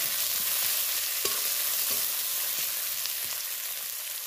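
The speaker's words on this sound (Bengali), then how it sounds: "পেঁয়াজটা দেখো একটু লাল হয়ে ভাজা হচ্ছে" Chopped onion frying in oil with nigella seeds and two green chillies, a loud, steady hiss of sizzling with faint occasional stirring scrapes and no speech.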